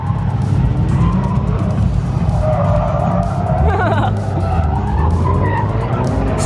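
A car drifting on a track, tires skidding and squealing with a continuous loud engine roar throughout, while a voice talks over it.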